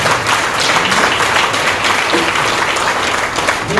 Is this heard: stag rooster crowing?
no